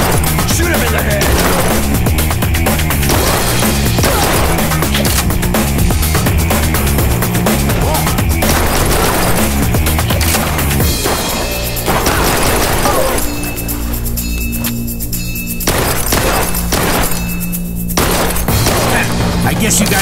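Gunfire in Blue Estate, loud rapid shots and crashing impacts layered over music and effects in a busy, constant action mix, with a voice talking over parts of it.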